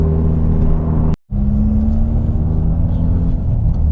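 A 2017 Ford Focus RS engine holds a steady drone at 2,500 RPM in third gear while driving, loud and continuous, with a brief sharp dropout just after one second before the drone returns.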